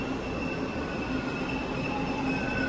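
A Toronto TTC T1 subway train from 1995 rumbles steadily at Ossington station platform during rush hour, with a constant mechanical drone and faint high-pitched wheel tones, no voices.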